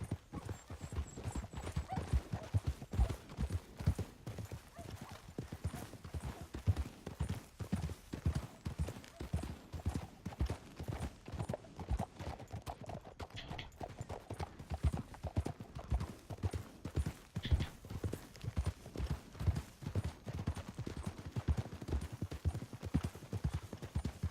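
Steady, rapid hoofbeats of horses galloping in the video game Red Dead Redemption 2, a continuous drumming rhythm that carries on throughout with no talking.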